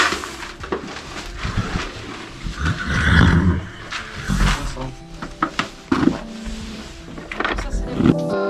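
A horse whinnies and snorts at the stables amid shuffling, knocking and general barn noise, the calls rising loudly a few times over a busy background.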